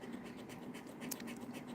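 Lottery scratch-off ticket being scratched with a small tool, quiet close-up rasping strokes in short repeated bursts.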